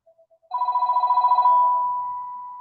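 A telephone rings during an online class: a few faint short pips, then a loud rapid trilling bell burst that shifts into a sustained tone, fading slowly, heard alone without talk.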